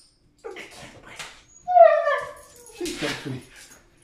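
A small dog whimpers with one high, drawn-out whine in the middle, while a person talks before and after it nearby.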